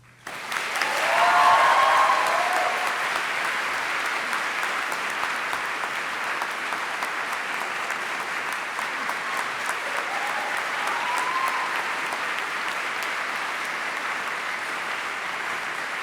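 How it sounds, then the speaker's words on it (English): Sustained applause from a large audience at a university graduation ceremony, swelling quickly and holding steady and full for the whole stretch after a teacher receives an award. "More applause than me."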